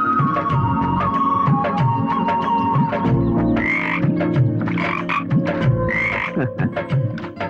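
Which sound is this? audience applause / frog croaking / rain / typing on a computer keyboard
frog croaking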